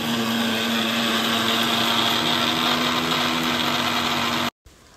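An electric kitchen mixer grinds fried ragi into powder with a loud, steady whirring whine that cuts off abruptly near the end.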